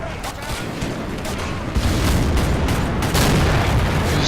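Artillery barrages in the war game Men of War Assault Squad 2, a dense, continuous rumble of booms and bursts that grows heavier partway through, loud and close.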